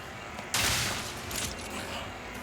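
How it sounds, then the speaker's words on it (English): Weapon fire aimed at large ships in Ratchet and Clank: Rift Apart opens with a sharp, loud burst that settles into a sustained noisy rush of shooting, with a smaller swell shortly after, standing alone without talk. "R2 to shoot large ships"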